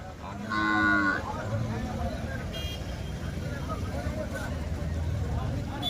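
Cattle at an outdoor cattle market, with one loud close moo rising out of a steady busy crowd murmur and vehicle noise, while people talk throughout.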